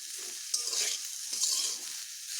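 Fiddlehead fern greens crackle and hiss in a hot pan while a utensil scrapes and stirs them in short strokes, close up, with no voices.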